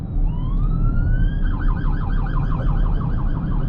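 A police car siren wails past a parked Haval H6 PHEV, rising then switching to a fast yelp, loud and close over a constant low engine rumble with no talk.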